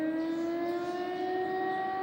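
Air raid siren wailing over a Ukrainian border town, a loud sustained tone held steady throughout with no talk over it.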